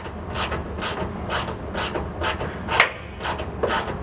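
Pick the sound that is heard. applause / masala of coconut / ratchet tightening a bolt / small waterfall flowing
ratchet tightening a bolt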